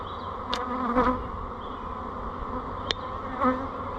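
A dense, steady hum of honeybees buzzing loudly and close as they are shaken down from hive frames, with a few brief sharp knocks and flares of individual bees passing near.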